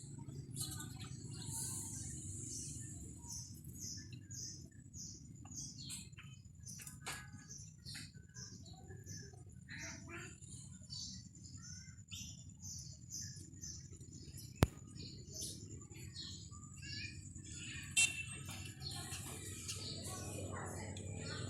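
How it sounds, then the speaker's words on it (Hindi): Small birds perched in a papaya tree chirp in quick, faint, scattered tweets over a low steady background hum, with a couple of sharp clicks. "चिड़ियाँ बैठी हैं पपीते पे दरख्त पे, बहुत अच्छी लग रही है, ये अपना घर बना रही है।"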